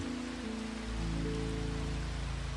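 Steady rain falls without a break, a dense, even hiss laid over a soft, low, sustained tonal drone.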